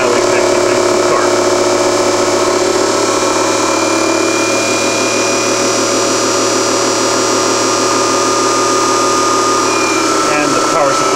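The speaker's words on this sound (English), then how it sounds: "Eventually, we'll hit the point where the motor starts generating." Electric vehicle AC motor drive system running on a test bench, a loud, steady whine with layered tonal hum and buzz from motor and power electronics, continuing evenly throughout with no pauses.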